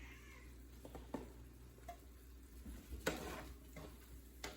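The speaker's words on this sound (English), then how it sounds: "That's Pepper, y'all hear meowing. She's meowing at my feet." A cat meows a few times, soft and nearby at someone's feet, over a quiet kitchen with chicken faintly sizzling and occasional clinks.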